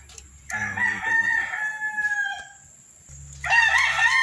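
A rooster crows twice close to the microphone in a rural Filipino yard: a long, loud crow, a short pause, then a second crow starting near the end.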